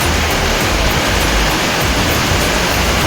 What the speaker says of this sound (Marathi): जोरात पावसाची सुरुवात झाली